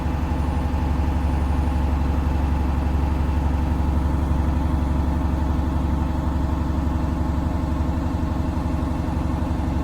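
A truck engine held at a raised, steady 1500 RPM for an air brake check: an even, loud, droning hum with a fast regular pulse throughout, unchanging and with no voices.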